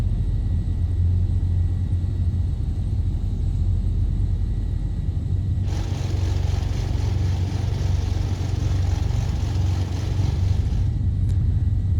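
Simulated Black Square Duke twin-engine aircraft taxiing, with a steady low engine rumble that swells with a brighter, louder drone partway through before settling back.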